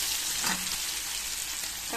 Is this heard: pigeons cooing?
no